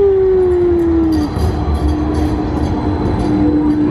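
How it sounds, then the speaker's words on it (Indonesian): A tram rolls along a street in Kassel, Germany, a loud close rumble of wheels on rails with a sustained tonal squeal that slides down early and returns faintly near the end. "Ui, dahsyat lah kereta api ni."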